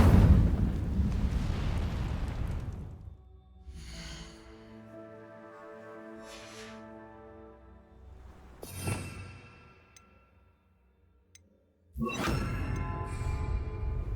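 Incendio fire spell cast in Hogwarts Legacy: a loud fiery burst up front fades into a ringing magical tone, a second whooshing blast near the middle, then another loud fiery eruption near the end, with no talk.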